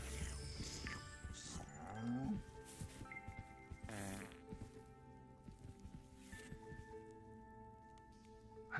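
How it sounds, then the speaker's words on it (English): A huge cow in the game Moo Lander lets out deep, drawn-out moos, mixed with other quirky game sounds. A voice talks over parts of it. "I see you've already found a cow"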